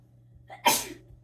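One sudden, sharp sneeze close up, a short intake followed by a loud burst of breath, then quiet.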